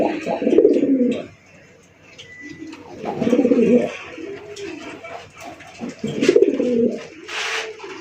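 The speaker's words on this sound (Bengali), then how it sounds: "একদম সর্বোচ্চ সাইজে একজন কালারিং রাজগোল্লা কবুতর দেখতেই পাচ্ছেন" Large colored Raj Golla pigeons coo in three rounded, throaty bursts spaced a few seconds apart, with softer murmurs and faint chirps between them, close and fairly loud.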